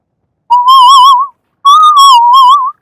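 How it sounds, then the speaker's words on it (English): A person whistles very loudly into a microphone, two sustained wavering tones with a short gap between them, close and strong enough to overload the input. "I'm whistling so loudly."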